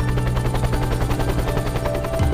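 A helicopter used for heli skiing thuds loudly and steadily close by, its rapid rotor beats pulsing without a break over the engine whine.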